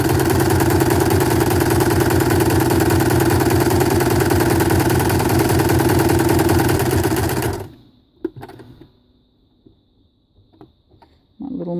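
Small home sewing machine stitching close to the edge, a loud steady motor whir with rapid needle chatter for about seven seconds, then it stops abruptly, leaving faint handling clicks before a brief restart.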